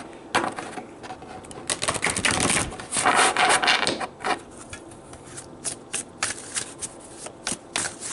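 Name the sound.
shuffling tarot cards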